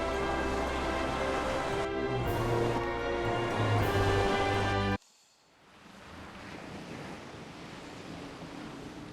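Ocean waves heard while sailing across open water in the video game Bravely Default: a first stretch mixed with music and tones, then a sudden cut to a steady wash of surf and wind that swells gradually.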